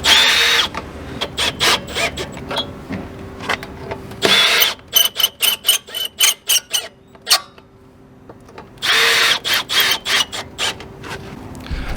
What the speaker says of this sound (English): Just go ahead and put our 3 long screws back in, and then we'll screw it to the camper.